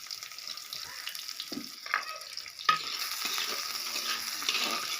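Chopped onion frying with taro in a pan makes a close sizzle, with clattering stirs and scrapes and a splashy, watery hiss that swells toward the end.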